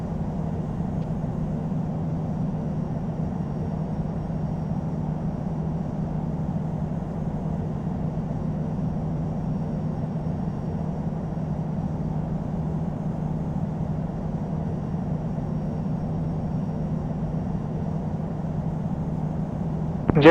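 Boeing 747-400 jet engines idling while taxiing at JFK in a flight simulator, a steady low droning hum at even loudness throughout with no talk.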